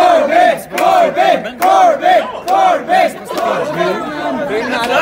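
A crowd chanting a name in repeated rhythmic bursts, loud overlapping voices rising and falling in a steady cadence over about five seconds, with chatter underneath.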